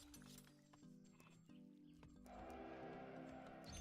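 Several sheep bleat in a strategy game, the wavering cries layered over one another and fairly clear. Faint game effects sound underneath, and no one speaks.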